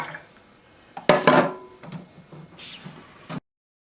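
A loud clattering rush as tumbled stones are dumped into a rock tumbler barrel, followed by smaller rattles and a final clunk.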